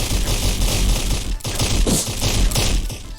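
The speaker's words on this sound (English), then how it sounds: "That sound playing is the sound of the stones falling on the ground." Video game effect of stones falling to the ground as a cave crumbles after a boss blows up: a dense, continuous rattle of rapid thuds and crackles, loud and harsh, with a brief dip partway through.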